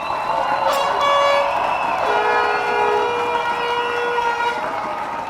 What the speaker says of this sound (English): Let me hear the applause